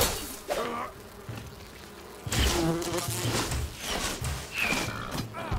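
Bees buzz in the video game Enshrouded, a continuous insect drone that swells and fades in loudness, with a few soft thumps underneath and no voices.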